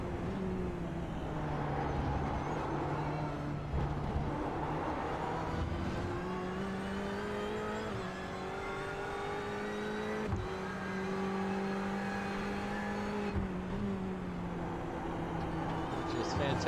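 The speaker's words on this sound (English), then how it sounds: "He's really pushing this Ferrari around the track." Ferrari GTE race car engine revving hard around the Le Mans circuit in iRacing, a steady high-pitched drone rising and dropping with gear changes and braking, continuous and loud, with commentators talking over it throughout.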